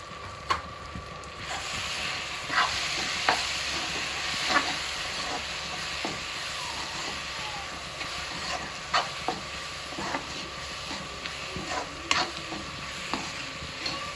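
Onions and chillies sizzle and fry in a pan for an eggplant bharta, with a steady crackling hiss and repeated scraping clicks of a spoon stirring through the mixture at close range.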